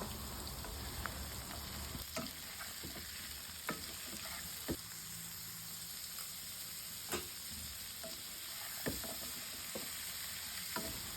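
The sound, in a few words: vegetables frying and being stirred in a pan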